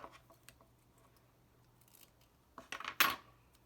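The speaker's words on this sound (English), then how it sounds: "just cut a little piece of tape" Scissors snip a small piece of tape during mini Rainbow Loom weaving, a short sharp cut with a crisp rustle near the end after faint handling sounds, close and quiet with no talking.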